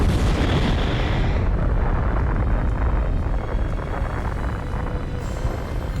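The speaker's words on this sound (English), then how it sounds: "I didn't know killing a god would result in an explosion like that." A massive explosion in the video game God of War follows the killing of Ares, heard as a dense, loud, sustained roar of rumbling blast noise that fills the whole stretch without letting up.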